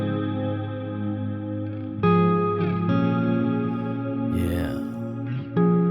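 Clean electric guitar run through the Neural DSP Archetype Plini plugin rings out in shimmering, chorused chords with long echoing tails, a few strummed chords layered over sustained ringing notes.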